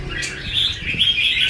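White-rumped shama birds in a bird shop in Tan Binh, Ho Chi Minh City, give steady high chirps and warbling notes at moderate distance over a low background murmur, with no clear speech.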